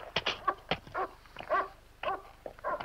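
A dog in the 1972 horror film Tales From The Crypt whimpers and gives a string of short, high yips and barks in an irregular rhythm, close and fairly loud with no talk over it.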